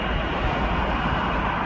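A jet airliner at an airport, either taxiing or just landed, heard while plane spotting beside a modified Boeing 747; a steady, loud, broadband engine roar fills the whole stretch without letup, with no talk over it.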